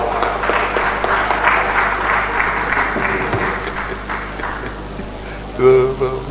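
Sustained applause from an audience at an award presentation during a leadership event in Nigeria, steady clapping filling the room for several seconds before it thins out, with a brief louder voice near the end.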